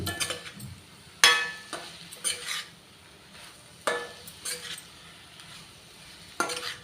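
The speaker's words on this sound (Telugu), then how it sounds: "ఇప్పుడు మనం కొత్తిమీర వేసేసుకుందాం వేసి ఒక మాల తిప్పేసి" A spoon clanks and scrapes against a kadai as coriander is stirred into frying ponnaganti greens, sharp metallic knocks at irregular intervals over a low background sizzle, close and fairly quiet with no talking.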